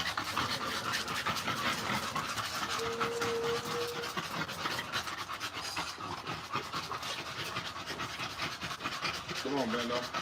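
An American bully dog pants hard and fast after playing with a ball, rapid heavy breaths running continuously and close, with a voice talking over it.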